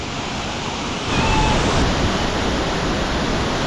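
A Bali waterfall in heavy flow gives a dense, steady roar of rushing water, loud and close, and it thickens slightly partway through.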